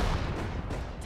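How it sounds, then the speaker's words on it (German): Gunfire and artillery in the World War II strategy game Sudden Strike 4, a dense, continuous rumble of shots and distant blasts over a busy battlefield, with no voices. "Eröffne Feuer."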